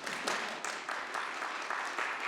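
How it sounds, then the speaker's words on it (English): Audience applause for a colleague being introduced at a Rovaniemi event, a short, soft spell of scattered clapping heard from a distance. "Round of applause, please."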